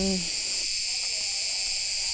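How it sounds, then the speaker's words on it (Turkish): Crickets chirp outdoors as a continuous high, shrill trill that holds steady throughout, with a brief voice at the very start. "cırcır böcekleri daha hızlı ötüyor"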